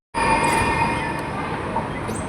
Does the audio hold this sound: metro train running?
yes